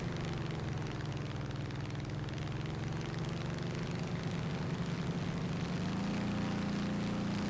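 P-47 fighter plane engine in the video game War Thunder: a steady, droning piston-engine hum runs unbroken at moderate volume, its pitch rising slightly near the end.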